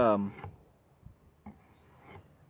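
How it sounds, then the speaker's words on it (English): A knife blade, Nitro-V steel, drawn lightly across a medium grit diamond stone on a Work Sharp Precision Adjust sharpener; a few soft, separate raspy strokes come close up, following a brief loud tone at the start. "Right now I'm on the medium grit diamond stone, and just going a little softer."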